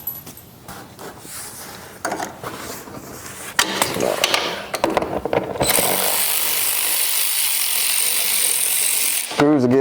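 A screw being removed from a trashed Polaris 325 Magnum four-wheeler, with ratcheting clicks, then a continuous whirring drill-like buzz close by, while someone talks.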